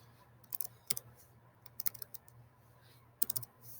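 Quiet plastic key clicks from a calculator being typed on: a short run of taps, a single click, then scattered clusters of presses with pauses between, faint over a low hum.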